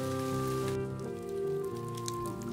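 Rain patters steadily in a humid tropical forest, a soft dense hiss of drops on foliage beneath a sustained musical tone.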